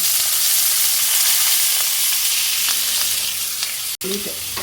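Onions and green chillies crackle and sizzle in hot oil with popped mustard seeds for a bitter gourd stir-fry, a steady loud frying hiss with a brief utensil clink near the end.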